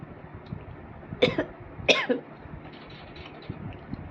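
A woman gives two sharp coughs in quick succession, close and fairly loud, with quiet breathing and faint throat noises before and after; no words are spoken.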